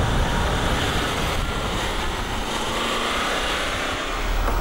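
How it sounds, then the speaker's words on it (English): A Land Rover with DSC switched off corners too fast and slides into a skid, heard as a loud, continuous broadband roar of engine, tyres and wind that holds steady for several seconds. "Turning off DSC and entering a corner too fast, or applying the throttle too sharply, can risk the vehicle sliding into a skid, as demonstrated here."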